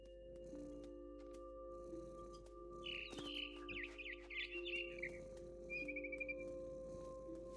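A bird in the video game What Remains of Edith Finch chirps in a short burst of high, twittering calls midway through, then a brief trill near the end, over a steady low game ambience hum.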